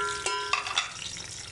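Sliced onions hit hot oil in a deep cooking pot, a bright sizzle that flares with a couple of sharp crackles as they drop in, then settles into a steady, fairly soft frying hiss.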